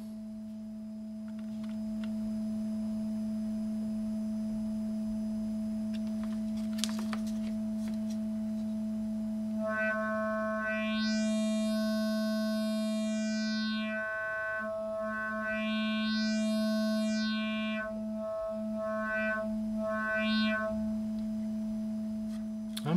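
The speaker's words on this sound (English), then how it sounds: "to a sine wave" A steady sine tone hums from an ST Modular Oberhausen oscillator during calibration, joined midway by a brighter, buzzy layer that sweeps up and down twice before settling back toward the plain tone.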